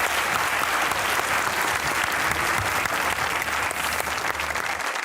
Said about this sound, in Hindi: सलमान गिलानी साहब के लिए तालियां।